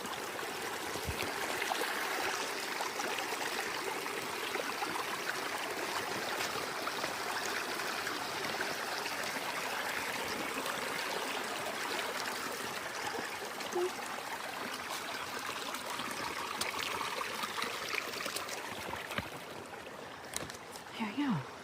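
A shallow stream runs along a backcountry trail on the Western States Trail, a continuous soft rush and trickle of water that stays fairly faint and steady throughout.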